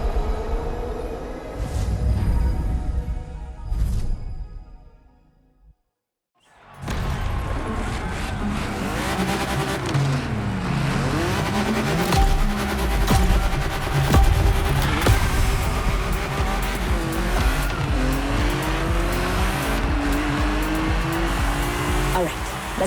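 A classic BMW M race car in the Crew Motorfest game, engine revving hard through rising and falling gear changes with tire squeal, loud and close after a brief silent gap, with a voice talking over it.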